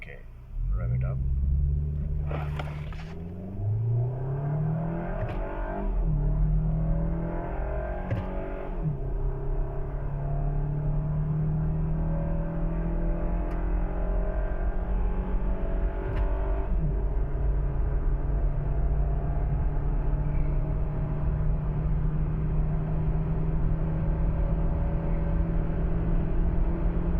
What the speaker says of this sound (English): Okay, rev it up.